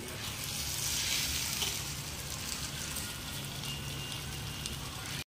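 A vegetable omelette sizzles and fries steadily in a pan after being flipped to its second side, a continuous close hiss with no talking.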